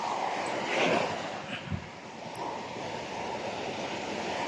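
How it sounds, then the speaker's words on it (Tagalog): Ocean waves at high tide rolling onto the shore, a broad wash of surf with wind buffeting the microphone, fairly faint and continuous. "high tide ngayon kaya malakas ang alon"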